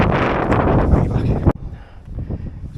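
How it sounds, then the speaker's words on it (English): Loud gusting wind roars across the microphone on the Catbells hilltop, about 451 metres up, then abruptly drops away to a softer, lighter breeze. "It's windy."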